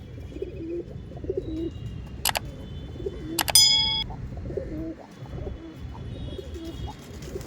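Giribaj pigeons coo softly and steadily at close range, joined by a couple of sharp metallic clanks and a ringing ding.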